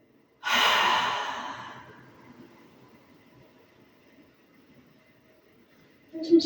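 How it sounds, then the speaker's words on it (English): A deep, slow breath during a yoga session, heard as one long airy exhale that starts loud and fades over about two seconds, close to the microphone, with a faint rustle at the end. "taking another deep breath in and let it go"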